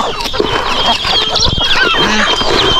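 Busy farmyard poultry calls, with clucks, gobbling-like chatter and squawks overlapping close by from a flock that includes turkeys, continuous and fairly loud without talk.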